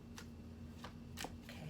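Crystals being shuffled by hand for an oracle reading, giving several short, faint rattling clatters spaced irregularly over a steady low hum, with no talking.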